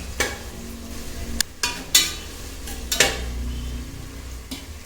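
Onions sautéing in a pan with a little rock salt, giving a soft continuous sizzle broken by several sharp scraping stirs of a utensil against the pan.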